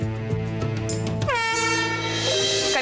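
An air horn blasts loud and steady as a team's signal on a cooking competition show, a sustained harmonic tone with a pitch shift partway through, heard alone without talk.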